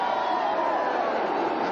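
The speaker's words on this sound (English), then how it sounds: "Very noisy crowd." A noisy football stadium crowd at a Seattle Seahawks versus Los Angeles Raiders game, a dense, loud, continuous roar of many voices with no break.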